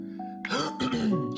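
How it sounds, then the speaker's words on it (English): Someone clears their throat up close, a short rough rasp followed by a second guttural push, with a faint vocal tone at the start. "I'm trying to clear my voice or clear my throat"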